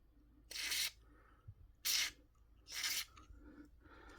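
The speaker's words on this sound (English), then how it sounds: "now I'm use W40 spray here in this hole" Three short hissing bursts of WD-40 aerosol spray into a Yamaha AX-900 amplifier volume potentiometer, each about a third of a second, close up in a quiet room.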